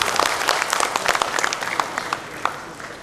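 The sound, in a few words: audience applause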